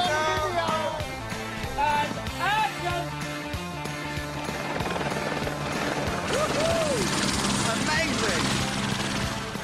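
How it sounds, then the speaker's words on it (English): Helicopter rotor noise drones steadily throughout while people talk and exclaim over it, as helicopters ferry crew and equipment up a mountain. "we had to have 10 helicopters ferrying crew, cast and equipment up the mountain"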